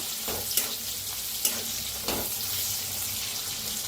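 Green chillies and garlic roasting in a pan with turmeric: a quiet, continuous frying hiss, close up, with a few sharp spatula clicks and scrapes and no speech.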